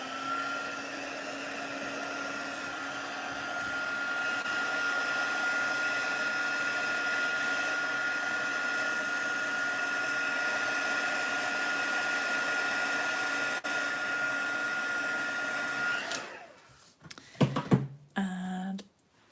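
Hair dryer blowing steadily on a watercolour painting, a constant whirring drone with a tonal hum that runs for about sixteen seconds before cutting off, followed by a few brief knocks.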